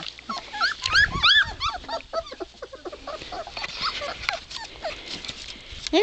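Dogs whimper and whine repeatedly at close range, a gentle mother dog with her young male puppies on a ranch, with overlapping high cries and occasional soft barks.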